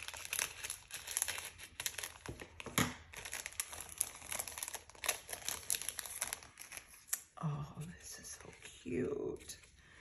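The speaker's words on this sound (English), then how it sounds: "I've got my handy dandy scissors here." Close, soft crinkling and snipping of paper as scissors cut open a Christmas card envelope, with quiet rustling throughout and a few louder crunches near the end.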